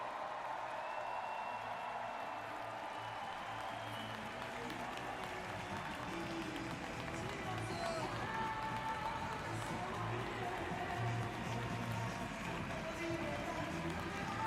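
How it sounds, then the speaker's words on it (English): A large arena crowd at a Paralympic ice hockey game applauds both teams, a steady wash of clapping and cheering that runs unbroken at a moderate distance and holds level throughout. "Ladies and gentlemen, let's give both teams a round of applause for their outstanding effort throughout the game."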